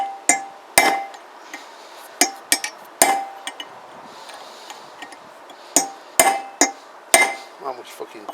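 A hammer strikes a chisel to knock out a bearing on a Kawasaki BN125 Eliminator motorcycle, sharp metallic clanks in irregular clusters, close and loud, with quiet gaps between blows.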